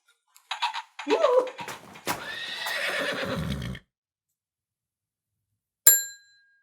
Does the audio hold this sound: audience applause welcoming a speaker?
no